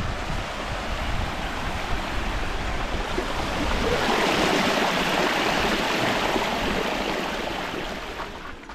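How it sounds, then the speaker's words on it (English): Steady rushing water of a waterfall on the Grampians Peaks Trail roars close by, a dense continuous wash that swells slightly louder midway and holds throughout, with no voices. "We found this beautiful waterfall."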